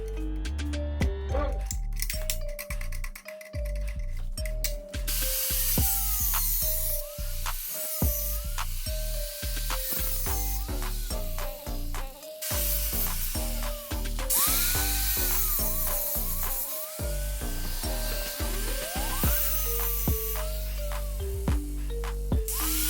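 A power tool, likely a rotary cutter, grinds through a section of a 72V Tuttio Soleil e-bike frame near the battery, giving a loud, continuous high-pitched whine broken by repeated short cuts and pauses over steady background music.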